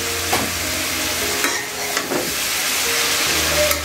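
Shredded cabbage and beaten eggs stir-fried in a pan, a steady close sizzle broken by several scraping strokes of the spatula, with no talking.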